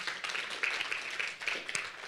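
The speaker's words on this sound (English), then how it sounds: "another round of applause for our panelists" Steady applause from a conference audience for a panel, moderately quiet and somewhat distant, with a dense patter of claps continuing throughout.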